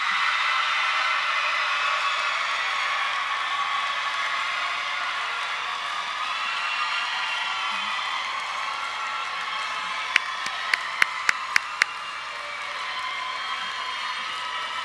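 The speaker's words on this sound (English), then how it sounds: "Please stand, clap, and shout for your graduate." A high school graduation audience in 2015 stands and applauds in a dense, continuous wash of clapping and cheering, with a short run of sharp, distinct claps near the end.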